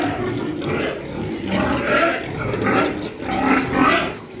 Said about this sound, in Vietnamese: Đây bầy heo con của mình.